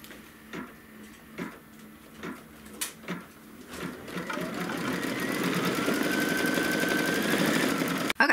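An embroidery machine stitching a tack-down run: a few separate clunks and taps at first, then a steady rising whir of rapid stitching that carries on until an abrupt stop, close up with no voices.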